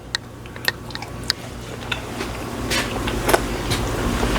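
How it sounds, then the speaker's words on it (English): Someone chews a bite of freshly cooked corned beef, giving soft, irregular mouth clicks and wet mastication sounds close to the mic over a low steady hum. "Now, we're going to just take a quick little taste here."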